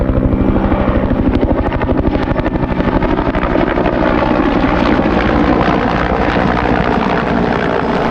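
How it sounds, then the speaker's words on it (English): A Bell Cobra helicopter on a low airshow pass roars loud and close, its rotor chopping in a rapid steady thump that holds strong throughout. "Next steep turn and the second low pass where I show the lower side of the helicopter."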